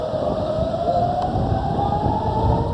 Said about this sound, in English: sirens blaring as citizens rush into bomb shelters